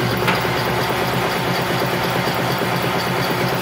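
A boat engine fitted with a Velvet Drive 5000A transmission idles in neutral at about 500 RPM, giving a steady, close, continuous low rumble with an even mechanical pulse throughout.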